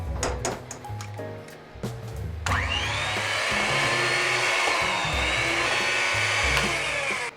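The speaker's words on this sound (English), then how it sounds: "Then we're going to add our egg and beat it in." An electric mixer beats an egg into Japanese sakura cupcake batter. Short bowl clatters come first, then the motor starts and runs as a steady, fairly loud whirring drone until the end, with no talking.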